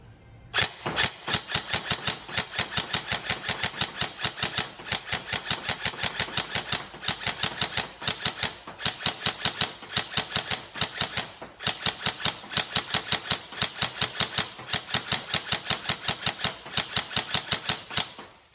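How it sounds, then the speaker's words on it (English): A Tokyo Marui M4 CQB-R next-gen airsoft rifle in tan firing rapid single shots, a loud, sharp mechanical clatter of dense repeated cracks with brief pauses between bursts, close and alone. "That's so obviously spamming single shots there."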